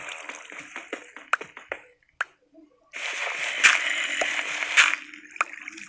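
Flowing water in Minecraft: a few scattered splashy clicks, a short pause, then a steady, moderately loud rush of running water for the last few seconds, with no one talking.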